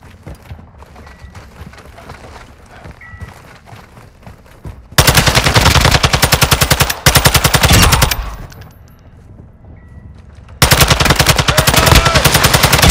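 Sustained bursts of automatic machine gun fire in the shooter game Call of Duty: Modern Warfare II, loud and close, rapid even rhythm across two long volleys, with quieter distant shots and battle noise in between.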